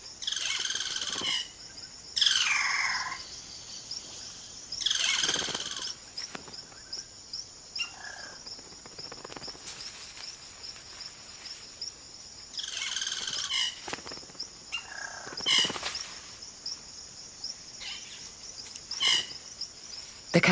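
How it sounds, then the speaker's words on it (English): Male caciques call in the Amazon forest, giving loud, varied, liquid whistles and chattering phrases in repeated bursts over a constant background of insect buzzing. "The cacique males now go about the important business of attracting a partner by puffing up their plumage and showing off their remarkable vocal range."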